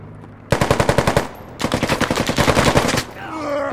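Automatic gunfire in Squad on the Yehorivka map: two sustained bursts of rapid, evenly spaced shots, loud and close, split by a brief pause, ending with a faint whistling tail.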